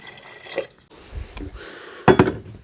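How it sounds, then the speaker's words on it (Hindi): Two or three glasses of water are poured into a cooking pot of dried ingredients, with scattered drips and splashes and then a sudden louder splashing pour near the end. "2 गिलास या 3 गिलास इसके अंदर पानी डाल लेता हूँ।"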